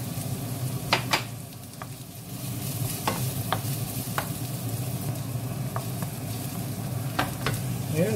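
Onion and chili sizzle and fry in a pan while being stirred for spicy pork ears, a steady hiss broken by sharp scrapes and clinks of a utensil against the pan.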